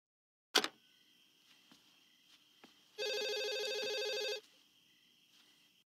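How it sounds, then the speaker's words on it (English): A telephone in a scene from the 1996 horror film Scream rings once as a long electronic trill, following a sharp click, with faint room sounds around it. "As the phone rings a second time"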